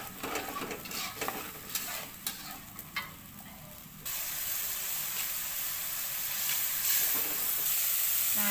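Fried, blended spice paste goes into a pan for stir-fried chicken skin, first scraped and stirred in bursts, then a steady loud sizzle with faint clinks up close.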